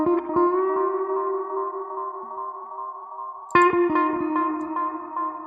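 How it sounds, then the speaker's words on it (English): A clean electric guitar with tape delay plays sustained chords, each strum echoing and ringing out smoothly, with a fresh chord struck partway through. "I put some tape delay onto the guitar"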